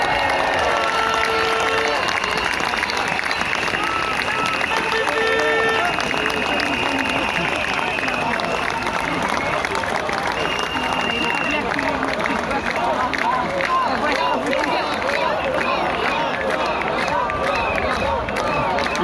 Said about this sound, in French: de faire une ovation à Florian Philippot